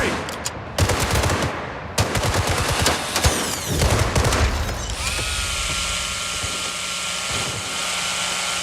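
Rapid bursts of automatic machine gun fire ring out loudly in the Gangster Mirage City video game during a jewelry heist shootout, followed by a sustained, steady hum of game ambience.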